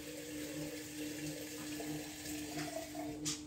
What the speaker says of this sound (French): Pour la cuisson du riz, effectivement, il faut mettre de l'eau.